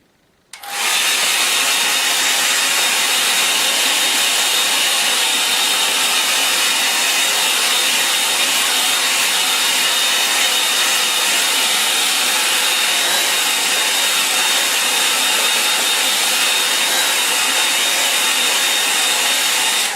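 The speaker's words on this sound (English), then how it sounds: "I'll give it a help with the hairdryer." A hairdryer kicks on abruptly after a brief silence and runs in a steady, loud whoosh over a watercolour painting of bait gatherers, holding an even hiss with no talk until the end.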